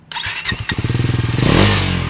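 Bajaj Pulsar NS 400Z motorcycle engine cranks briefly and fires up close by, settling into a loud, rapid, rhythmic thumping idle that swells slightly as it revs.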